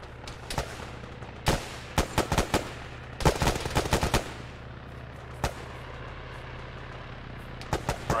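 DShK heavy machine gun firing from a technical in Arma, distant bursts of heavy rounds in short clusters with pauses between, sharp cracks rolling over a quiet ambient background.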